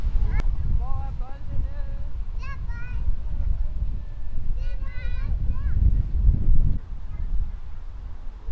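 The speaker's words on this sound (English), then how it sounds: "It's really windy here." Gusty outdoor wind buffets the microphone with a low, rumbling roar that swells and eases, while voices talk over it.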